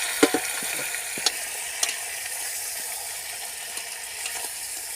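Chicken frying in a pot while cooking outdoors near a farm, a soft steady sizzle with a few sharp scraping clinks of stirring early on, fairly quiet and with no talk.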